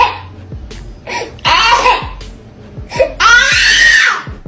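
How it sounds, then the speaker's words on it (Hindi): A baby cries in loud, rising wails separated by short gasping pauses, with the mother singing along nearby and the two voices overlapping at close range. "बच्चा रो रहा है, लेकिन बच्चे के रोने पर उसकी मम्मी गाना गा रही हैं।"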